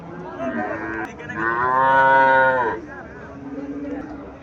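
At a cattle market in Cumilla, a Sahiwal calf lets out one long, loud, close moo that rises and falls, framed by quieter lowing sounds before and after.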